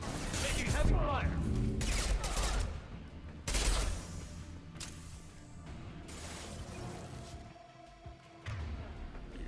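Heavy gunfire in the video game Mass Effect 2 crackles in repeated bursts and volleys, with loud hits and a thud standing out amid a busy combat mix and occasional voices.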